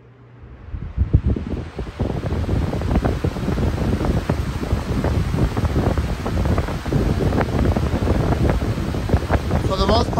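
A 20-inch Big Air high velocity fan spins up and runs. Its loud, steady whooshing roar builds within the first second and then holds for the rest of the clip.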